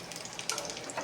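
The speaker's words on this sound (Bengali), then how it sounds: "তেলে ছেড়ে দিচ্ছি। এই যে আর একটা ছেড়ে দিলাম।" Jute leaves drop into hot oil and fry, making a faint, close crackle with small bright pops and a slightly sharper burst midway through.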